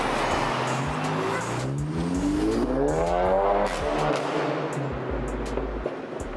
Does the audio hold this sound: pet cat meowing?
no